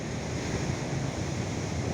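Ocean waves wash continuously onto the beach at Imouran in a dense, steady roar, with wind buffeting the microphone and no voices.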